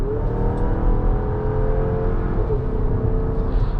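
A 2025 GMC Acadia Denali's 2.5-liter four-cylinder engine pulling hard on the highway, a loud, steady drone rising in pitch as it accelerates, heard from inside the cabin with no talking.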